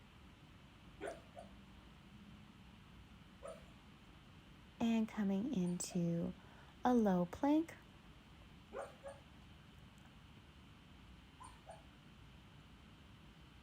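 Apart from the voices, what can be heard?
dog whimpering while sleeping and dreaming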